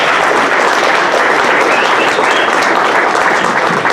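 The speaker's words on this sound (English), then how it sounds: "let's have a quick round of applause for Ryan here" An audience applauds Ryan Preston after a hacking series talk, a dense, even wash of clapping from many hands that stays loud for the whole stretch.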